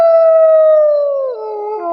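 A black and tan dachshund lets out a single sustained howl, loud and close, its tone holding steady before sliding lower near the end, with no voices.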